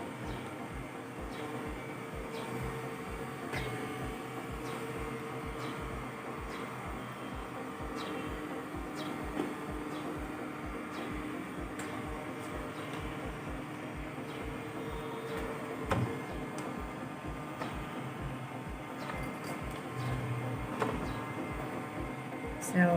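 A robot vacuum cleaner runs at low volume with a soft, steady motor hum and faint regular ticking from its brushes, continuing evenly throughout as a quiet background.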